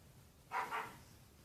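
A single dog gives a short double bark, moderately close, standing clearly above a quiet background.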